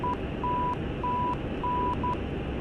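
A navigation beacon's steady tone keyed on and off in short and long beeps, clearly spelling out a Morse code identifier over a constant hiss of static.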